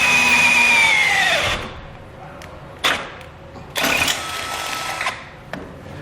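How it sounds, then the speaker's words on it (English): A power drill whines at high speed drilling out mounting holes for an ATV winch on a 2018 Kawasaki Teryx4 800, winds down, then comes in several short bursts with pauses between, close up and fairly loud. "We're going to drill out the 2 remaining holes that are located there now."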